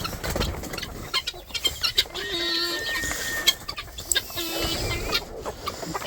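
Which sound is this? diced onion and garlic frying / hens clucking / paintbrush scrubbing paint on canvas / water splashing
hens clucking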